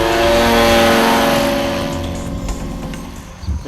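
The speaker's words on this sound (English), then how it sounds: "Die ITCC 80cc enjintjie." A small ITCC 80cc paramotor engine runs steadily and loudly close by, a sustained buzzing drone with harmonic whine that eases off slightly toward the end, with a few rough bumps near the finish.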